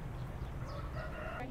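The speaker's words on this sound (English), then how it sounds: "We've got all sorts of roosters in here." Roosters crow and hens cluck at a Thai Sunday market, a noisy, crowded space with a constant low rumble of background activity.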